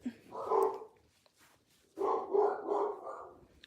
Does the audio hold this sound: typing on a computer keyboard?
no